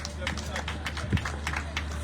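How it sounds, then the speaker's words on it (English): A crowd at a scouts' camporee gives a round of applause, claps landing in a quick rhythm under chatter and nearby talking voices. "A round of applause for him."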